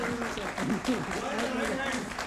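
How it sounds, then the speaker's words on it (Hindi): Audience applause at a business coaching talk in Mumbai: a steady, fairly soft patter of many hands clapping throughout, with a voice speaking over it. "जोरदार तालियां इनके लिए।"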